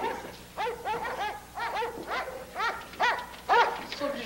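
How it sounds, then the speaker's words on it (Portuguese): Several dogs bark and yip in a rapid, overlapping series, fairly close and steady for a few seconds. "Pedro, acalme os cachorros."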